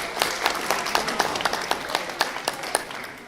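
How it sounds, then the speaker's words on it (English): A small audience at a book-reading event applauds an introduced guest: sparse, distinct hand claps, fairly close, in a steady patter for about three seconds with no talking over them. "Give him a round of applause."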